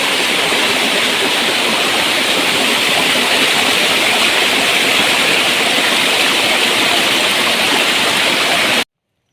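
A forest waterfall roars steadily and loudly, a dense constant rush of falling water with no voices, cutting off abruptly at the end.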